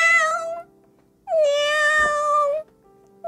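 A voice imitates a cat's meow in drawn-out, harmonic calls: one short call, then a longer one after a pause, and the start of a third, loud and close with no other talk.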